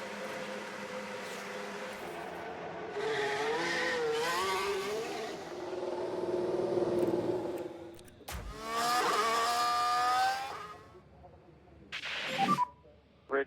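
Race cars in a Waffle House car creator video game rev and whoosh past in several separate bursts. Engine pitch rises and falls between short pauses, and a sharp squeal or burst comes near the end, all fairly faint.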